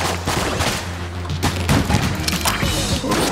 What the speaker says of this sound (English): Oh yeah, that fires. It's like a burst fire handgun.